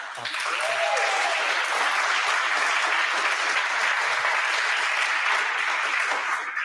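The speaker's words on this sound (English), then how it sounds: "A huge applause to all of you" An audience at a game jam continental final applauds, a dense, steady wash of clapping that holds loud for several seconds, with a brief voice near the start.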